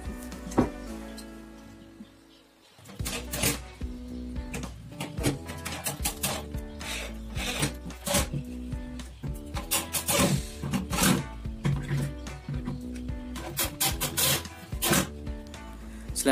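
Power screwdriver driving screws through a wooden shelf back into the side walls, bursts of whirring and sharp clicks and knocks repeating at close range after a quiet start, with no talking.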